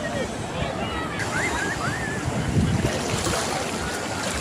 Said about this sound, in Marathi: बहुत तुफान लाटा येत आहे फार